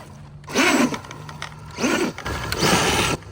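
A Traxxas 1920 sprint car RC model's gear or drive shaft grinds in two loud, rough mechanical bursts with a ratcheting, clattering texture under full throttle, separated by a brief lull.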